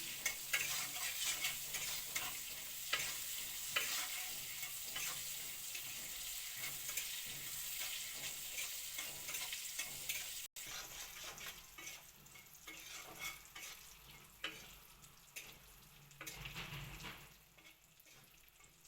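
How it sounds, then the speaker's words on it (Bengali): Eggplant frying in a pan makes a soft, continuous hiss and sizzle, with faint intermittent stirring scrapes and a brief drop in level partway through. "বেগুন ভাজাটা হয়ে গেছে"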